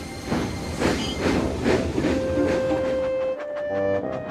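A steam train engine puffs along, with rhythmic chuffing bursts and hiss, fairly close, followed by a steady whistle-like tone near the end.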